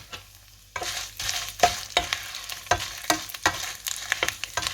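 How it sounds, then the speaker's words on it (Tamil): Dried red chillies fry in a little hot oil while being stirred, a close crackling sizzle punctuated by regular sharp scrapes and taps of the utensil against the pan, with no talking. "எண்ணெய் குழச்சிட்டது செத்த மிளகாய் போடுவோம்"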